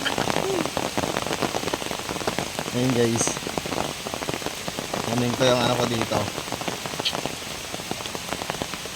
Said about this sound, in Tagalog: Ulan na naman dito sa amin.